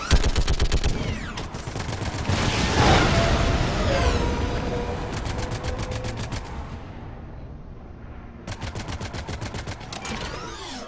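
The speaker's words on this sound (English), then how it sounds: "don't you hear this gunfire?" Gunfire in the video game Mass Effect 3, rapid automatic bursts in several long volleys with battle noise and a rumble between them, loud and continuous across the whole stretch.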